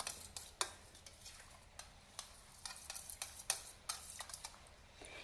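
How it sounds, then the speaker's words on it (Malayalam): A spoon clinks and scrapes steadily in a bowl, stirring chilled milk mixture into curd, with close, light rhythmic taps and no voices. "ഒന്നോടെ ഒന്ന് മിക്സ് ചെയ്യണം."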